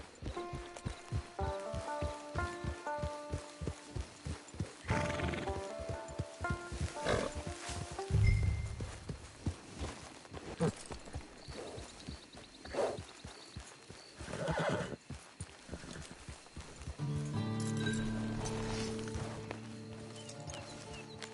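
A horse whinnies loudly among clip-clopping hooves and snorts in a PS4 video game, with music playing throughout.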